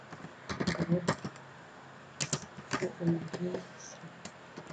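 Keys clatter on a computer keyboard in short bursts as data is entered, with quick clusters of close, crisp taps separated by brief pauses, no talk over it.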